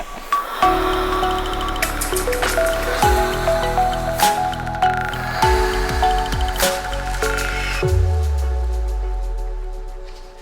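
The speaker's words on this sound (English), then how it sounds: "Let's go ahead and pour this in. We do have our funnel just so we don't make too big of a mess" Pennzoil 0W-20 motor oil poured through a funnel into a Jeep Wrangler JL engine, a close, continuous glugging pour with sloshing and bottle gurgles, stopping briefly and resuming, then trailing off.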